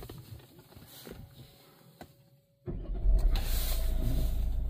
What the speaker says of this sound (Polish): uruchomimy pojazd